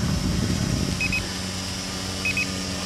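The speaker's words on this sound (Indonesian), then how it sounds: "ini bunyi bip-bip karena saya merekam video ya" A Nartor NX5 / SJRC S20W drone gives short high electronic beeps while recording video, two quick triple-beep clusters about a second apart over a steady motor hum, with no talking.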